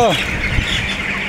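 Chickens on a poultry farm squawk loudly, one sharp cry at the start, then a crowded wash of bird calls continuing steadily.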